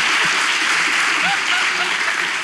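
An audience claps for a guest on a Turkish talk show, a dense, even wash of applause that stays loud throughout the short stretch.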